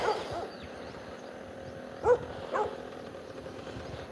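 Injured dog with a broken back leg, met on an outdoor walk: faint whimpers and a few short yelps at a distance over steady background noise, two brief louder cries standing out.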